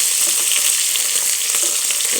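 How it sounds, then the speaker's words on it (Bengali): Green chilies frying in hot oil for a fish curry give a continuous, even sizzle with a faint crackle throughout, close and fairly loud, with no voices. "এখন আমি কাঁচা মরিচ একটু ভাজি হয়েছে, বেশি ভাজলে আবার মাছের স্বাদ কমে যায়।"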